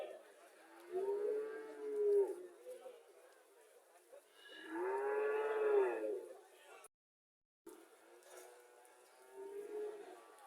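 A dairy cow at a cattle market moos in two long, loud, drawn-out calls close by, followed by a fainter third low moo, with a brief gap of silence between them.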